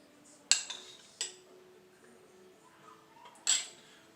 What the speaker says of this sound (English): I always stir the bottles up, to stir the the little floaties that are in the bottom